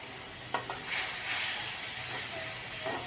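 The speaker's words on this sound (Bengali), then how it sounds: "এবার গুলে রাখা মশলাটা দিয়ে দিচ্ছি।" Water-mixed ground spice paste poured into frying fish pieces bursts into a sharp hiss, then settles into a steady soft sizzle with faint stirring scrapes, close but fairly quiet.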